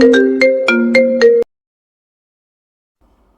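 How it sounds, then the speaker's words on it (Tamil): A phone rings with an incoming call, playing a bright melodic ringtone of about six quick tones before it cuts off abruptly into silence. "யாரோ ஃபோன் பண்றாங்க."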